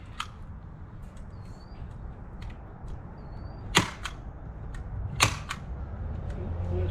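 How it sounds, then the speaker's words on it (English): A staple gun fires staples through wire into a piece of wood for a vertical garden trellis, giving two sharp, close snaps a couple of seconds apart over outdoor background noise. "taking a staple gun and stapling the wire to this piece of wood here"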